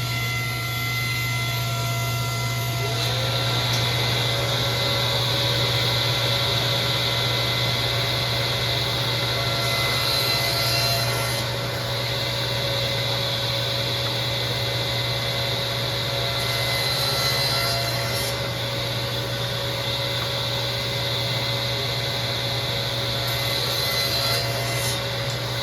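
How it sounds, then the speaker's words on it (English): A shop vacuum runs continuously at a wood lathe, a steady whining hum with slight swells and a few rasping scrapes of material passing through. "We got to turn the vacuum on."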